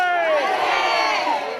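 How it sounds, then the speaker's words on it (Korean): A crowd of around a hundred people, mostly NYU students, shouts the Korean independence cheer "manse" in unison at the Naumburg Bandshell outdoor stage in Central Park, Manhattan, giving one loud, sustained collective cry that fades at the end. "맨해튼의 한복판인 이곳에서도 대한 독립만세 소리가 울려 퍼졌습니다"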